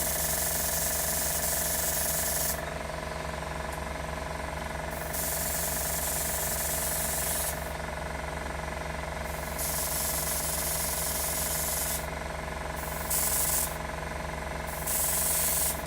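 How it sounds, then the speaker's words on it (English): Airbrush spraying model paint, a steady hiss broken into bursts of several seconds with short pauses between, over a constant mechanical hum from the compressor. "the more I use this airbrush, the more I'm falling in love with it"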